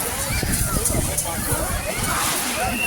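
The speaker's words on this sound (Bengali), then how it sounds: "কি জলের ঢেউ, পুরো কাঁচের মতো পরিষ্কার জলটা একবারে" Sea waves sloshing on the beach at Durdle Door on the Jurassic Coast, a steady wash of water under nearby voices and bathers' chatter.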